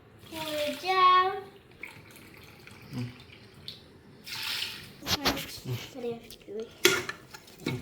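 Water from a tap runs and splashes into a pot as two cups are added for mutton pulao, short pouring bursts alongside metal clinks, with people talking throughout.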